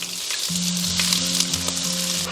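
Lamb chops pan-fry over medium heat with onion and celery, giving a steady, close sizzle with crackling oil and a faint low hum underneath.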